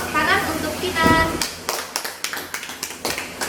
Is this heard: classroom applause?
yes